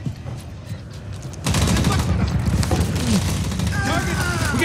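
Gunfire in a Medal of Honor battle: quieter shooting gives way at about 1.5 s to loud, dense, sustained bursts that continue to the end, with shouted voices mixed in.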